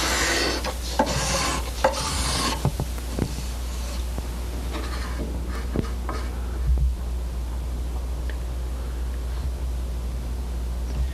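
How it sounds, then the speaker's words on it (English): A steel scraper drags across a solid wood guitar body in close, raspy strokes, loud and steady at first, then lighter scrapes and clicks fading into a low hum. "A steel scraper removes all the scratches that sandpaper won't touch."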